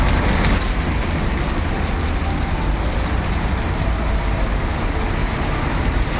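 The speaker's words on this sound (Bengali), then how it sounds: "সাদা হয়ে বৃষ্টি হচ্ছে।" Heavy cold rain falling on a street at a bus stop, a dense, loud, unbroken hiss of drops striking the ground and surfaces nearby.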